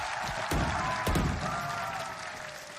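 Crowd noise and applause from a VALORANT Masters Tokyo playoff arena, Team Liquid against EDG, a steady broad roar with two sharp bursts of cheering near the start, loud and sustained under faint commentary.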